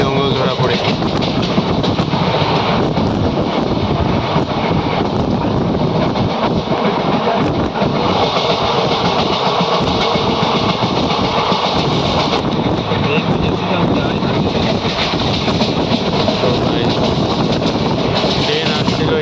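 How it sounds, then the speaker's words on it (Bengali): A train passing close by, with a continuous loud rumble and rattling wheels on the track plus wind buffeting the microphone, lasting the whole stretch, with a voice faintly underneath. "ট্রেন আসছিল, এই কারণে আপনাদেরকে দেখাতে পারলাম না"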